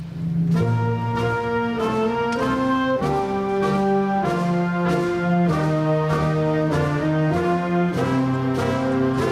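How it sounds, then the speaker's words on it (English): A band plays Pomp and Circumstance at a Bethune-Cookman University commencement, a slow, stately processional march with sustained brass chords and rhythmic accents, loud and continuous throughout. "That is the sound of pomp and circumstance at Bethune Cookman University today."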